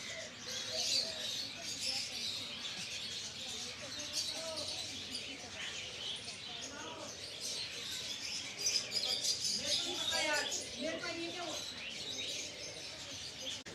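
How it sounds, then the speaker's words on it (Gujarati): Birds calling at Ahmedabad Zoo (Kankaria) near aviary cages holding a crowned pigeon, with scattered chirps and calls over steady ambient noise and a speaking voice. "એક વેરાયટી પક્ષી ક્રાઉન કબૂતર પણ જોવા મળ્યું"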